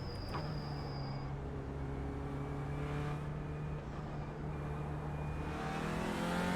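Race car engine in a racing video game, an Audi TCR touring car lapping Laguna Seca, drones steadily and loudly with a sustained low tone that climbs slightly in pitch toward the end, heard alone without talk.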